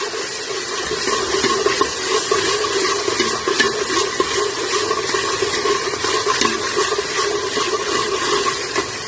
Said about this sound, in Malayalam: അപ്പൊ നമുക്കിതൊന്ന് നല്ലോണം ഈ എണ്ണയിലിട്ടിട്ട് ഈ പേസ്റ്റ് ഒന്ന് ഫ്രൈ ആക്കി എടുക്കാം